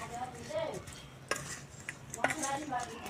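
A chilli pickle mixture is stirred in a bowl after vinegar goes in, with soft scraping and a few sharp clinks of a spoon against the container, fairly close and moderate in loudness, with no talking.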